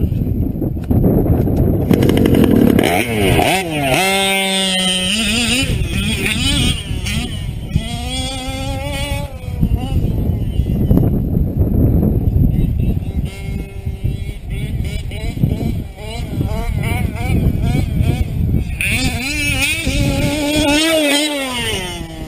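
A vehicle engine is fired up and run, loud and close, revving repeatedly so its pitch sweeps up and down between rougher idling stretches.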